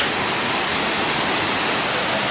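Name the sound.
small waterfall in downtown Seattle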